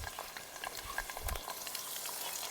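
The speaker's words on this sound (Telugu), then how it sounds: "ముందుగా పసుపు ఉప్పు కలిపెట్టుకున్న చికెన్ని నూనెలో వేసేస్తున్నా." Chicken marinated with turmeric and salt fries in oil outdoors on a boat in the middle of a pond, a faint, steady sizzle with light stirring and no voices.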